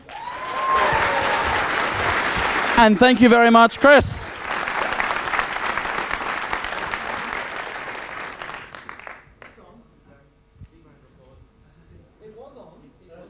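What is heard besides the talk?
audience applause at conference closing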